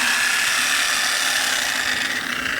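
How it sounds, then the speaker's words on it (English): A Sawzall reciprocating saw running off a truck-mounted power system, a continuous loud buzzing whine held steady throughout. "if I turn on the Sawzall"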